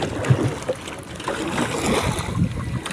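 A wooden rowboat with no engine, paddled by hand on the open sea while fishing, with soft dips and splashes of the paddles over steady wind and wave noise, fairly close and moderate in level, no talking.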